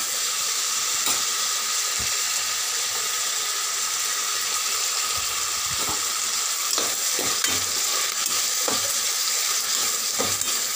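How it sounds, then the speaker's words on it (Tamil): Flat beans sautéing with turmeric and salt in a pan, a continuous loud sizzle with steady hiss and occasional scraping stir strokes, alone without talk. "மஞ்சத்தூள் சேர்த்து 1 செகண்ட் அப்படியே வதக்கி விட்டுக்கிறேன்."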